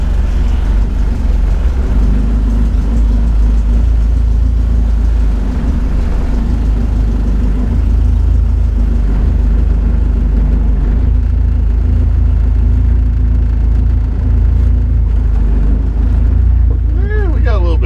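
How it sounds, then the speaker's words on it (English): A 1987 Jeep Comanche pickup idles and backs up in reverse, its engine a loud, steady low rumble that dominates throughout, with a brief rising whine near the end. "Hey, we got reverse. Backing up."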